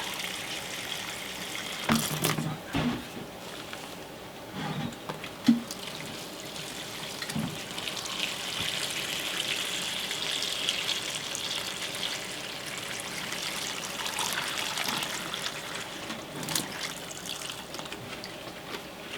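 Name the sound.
water poured from hose into substrate package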